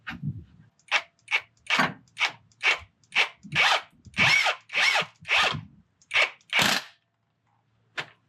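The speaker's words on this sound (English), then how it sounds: "With the half drive impact." A half-inch drive impact wrench tightens bolts on a 4L80 transmission going into a Silverado truck with a 5.3 LS. About a dozen short, loud, close bursts come in an uneven rhythm, with brief pauses between them and no talk.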